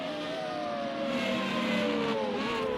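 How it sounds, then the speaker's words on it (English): Formula Renault race cars in a sim racing game, Algarve circuit, with engines revving and shifting pitch continuously, loud and steady, several cars layered together with no talk. "Don't these cars sound good?"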